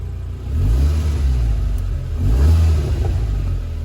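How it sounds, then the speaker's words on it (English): A Mk6 Volkswagen Golf R with an APR tune roars close and loud, its exhaust surging in two strong revving swells over a deep continuous rumble. "The pops and bangs turn on."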